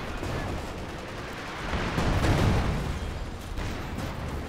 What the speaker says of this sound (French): il faut finir d'artiller cette maisonnette